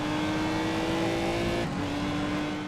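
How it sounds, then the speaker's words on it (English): Lamborghini race car in GRiD, a loud close engine holding a high steady whine with a slight dip partway through, alone without talking. "having a really difficult time keeping this Lambo straight"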